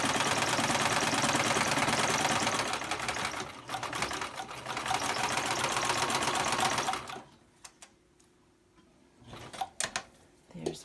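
A sewing machine back stitches elastic onto a fabric surgical mask, running steadily and loudly with a rapid mechanical rattle for about seven seconds before stopping, followed by faint handling clicks.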